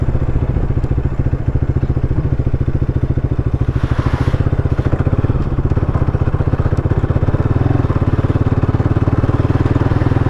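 Bajaj Pulsar NS200 motorcycle with an aftermarket exhaust running close up, a steady low throbbing engine note with dense rapid pulsing throughout and a brief brighter hiss midway.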